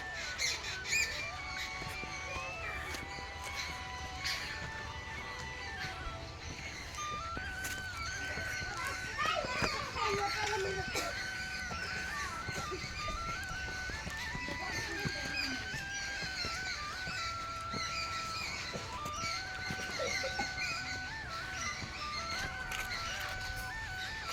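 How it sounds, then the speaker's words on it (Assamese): Birds calling and squawking on a hilltop, a steady chorus of repeated chirps and calls at moderate distance running throughout, with children and other voices audible in the background. "এয়া চাওক, ওপৰত চৰাইবোৰে কিমান ধুনীয়াকৈ চিঞৰি আছে।"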